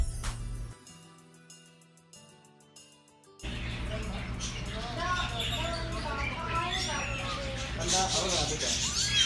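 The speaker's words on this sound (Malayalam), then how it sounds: "പല ടൈപ്പ് പൂച്ചകളും അവിടെ ഉണ്ട്." Cats meow among other small animals in a pet shop in Al Jubail, Saudi Arabia, the calls faint and partly buried under a busy indoor din of voices and shop noise that swells after a quieter opening.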